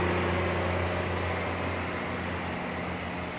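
A big military truck rolls past in a Memorial Day parade in Gettysburg, its engine a steady, loud droning hum with a continuous broadband rumble and no speech.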